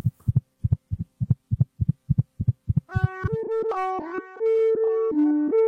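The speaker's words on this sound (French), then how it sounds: "comment peut-on entendre des battements de cœur?" A series of paired heartbeat thumps, about a dozen in steady rhythm, followed by sustained electronic tones shifting pitch.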